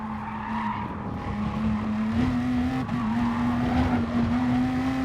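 A race car circles Interlagos in a racing video game, its engine holding a steady sustained drone with slight pitch shifts as it accelerates and lifts, tyres hissing underneath, loud and continuous with no talking.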